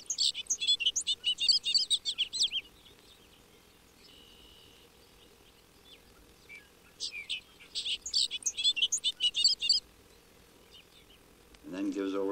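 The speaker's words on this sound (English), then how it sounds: "a bobolink sings his last song of the evening" A bobolink sings its bubbling, tinkling evening song across an open field at dusk in two long bursts of rapid notes, with a quiet gap between them, moderately distant against soft background hum.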